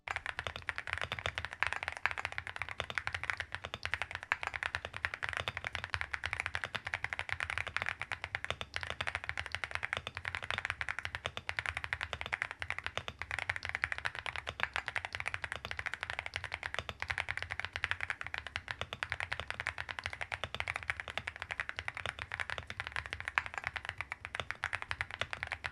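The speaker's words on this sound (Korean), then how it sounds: "USB 리시버를 컴퓨터에 연결해서 키보드의 전원을 켜고 타건 테스트를 해보도록 하겠습니다" A Gravastar Mercury K1 Pro wireless mechanical keyboard is typed on continuously and close up, giving a dense, steady clatter of key presses with no talking.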